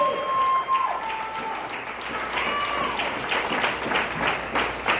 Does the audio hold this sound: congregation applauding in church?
yes